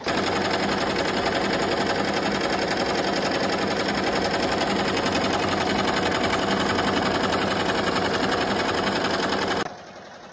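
An embroidery machine stitches several patches at once, a loud, fast, steady mechanical rattle that runs unbroken for several seconds before abruptly dropping to a quiet hum.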